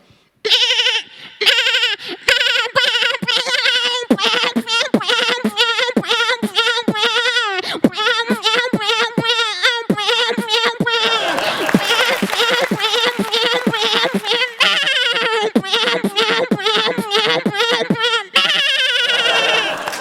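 A voice imitates goat bleats in quick rhythmic bursts, repeated over and over like a beat, loud and close with brief pauses.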